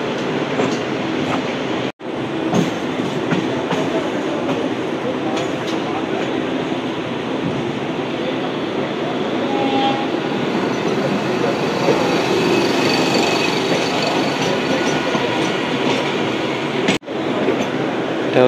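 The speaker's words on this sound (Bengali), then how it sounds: "নারকেলডাঙ্গা কারশেডের মধ্যেও 12 বগির ট্রেন রয়েছে।" A 12-coach suburban electric train at the Narkeldanga car shed on the Sealdah line, rumbling steadily and loudly throughout, with rail noise building toward the middle and no talk over it.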